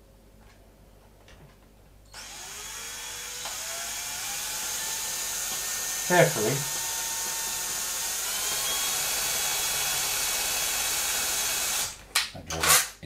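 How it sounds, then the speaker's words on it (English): A power drill bores a hole through a leather knife sheath strap, giving a steady, close, high whine for about ten seconds before stopping. A person speaks briefly at the start. "That drill is blunt."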